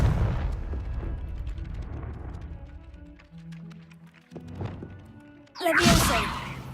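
Confringo fire spell blasting in Hogwarts Legacy, a rumbling burst of game sound that quiets, then a sudden loud fiery eruption near the end amid background game effects.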